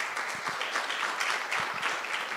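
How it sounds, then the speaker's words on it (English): An audience claps steadily at a guide dog graduation ceremony, a dense, continuous round of applause with no talk over it. "How about a round of applause?"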